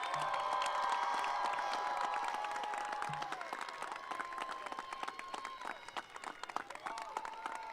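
Crowd at a 2023 Swartz Creek High School graduation ceremony cheering and applauding loudly for their families, a sustained roar of voices and clapping that carries through the whole stretch and slowly thins toward the end.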